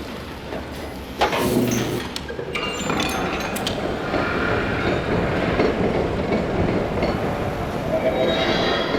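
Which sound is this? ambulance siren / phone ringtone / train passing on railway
train passing on railway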